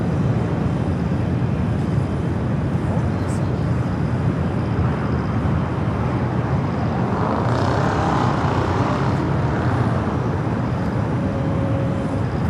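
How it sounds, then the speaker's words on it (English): An Ita Airways Airbus A350-900 takes off for Rome from LAX, a loud, sustained broadband jet roar holding steady throughout, heard from a distance outdoors. "621 taking off to Rome, Italy on the A350-900"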